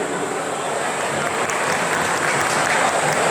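Steady, dense audience applause fills the hall at a large retirement thanksgiving ceremony, a continuous wash of many hands clapping at even loudness for several seconds with no voices over it.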